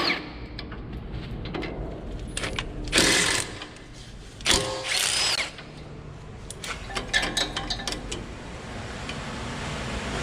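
A power tool whirs in short bursts while 10mm bolts are removed from the ABS wire bracket on a Toyota Tacoma front suspension, with two or three loud spins and clicks of metal between them.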